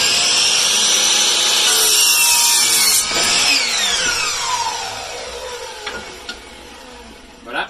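A power saw slices through a piece of wood, a loud whining cut that gradually fades and winds down over several seconds, with a few small clunks near the end.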